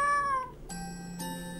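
A cat in the game Mr. Sohta meows twice, then once more, with short, clear, close mews separated by brief pauses and no talking over them.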